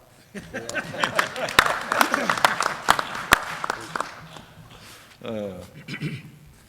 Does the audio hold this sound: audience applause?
yes